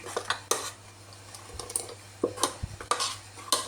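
A spoon stirs urad dal porridge in a pot, giving sharp metallic clinks and scrapes against the pot at an irregular, hurried pace, fairly close and quiet.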